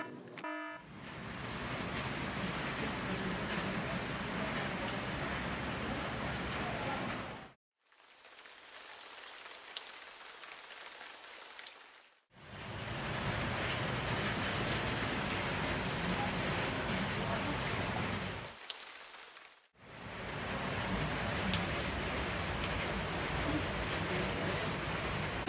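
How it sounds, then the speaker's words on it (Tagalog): Water floods the engine room of the ship MV Tarantelia as a dense, steady roaring rush, broken by two short near-silent gaps. "A flood in the engine room has occurred in MV Tarantelia"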